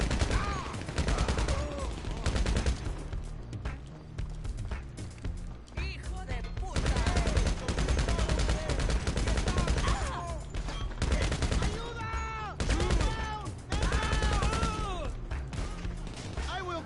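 Video game gunfire during security contract missions as the player shoots an enemy: dense, repeated bursts of shots and rapid fire run almost continuously, loud and close.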